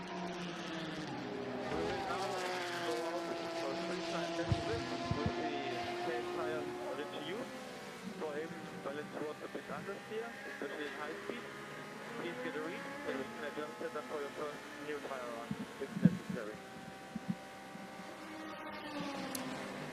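A Porsche RSR race car engine roars and revs through gear changes, rising and falling as it passes during Le Mans qualifying, with a voice talking over it.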